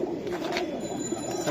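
A pigeon held in hand at a pigeon sale, Hammer and Silver Giribaz breeds on offer, gives a low steady cooing murmur close to the mic with background market noise.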